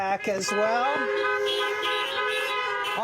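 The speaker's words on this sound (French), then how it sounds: "Pour dire amen dans la voiture, on klaxonne." Car horns honk at a drive-in church service in the United States, a long sustained blare with overlapping tones holding steady across the parking lot, with brief toots at the start and a voice heard over it.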